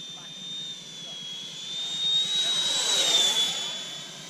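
A Freewing F/A-18C Hornet RC electric jet passes overhead with a rising and falling ducted-fan whine, growing louder toward the middle before fading, faint and outdoors.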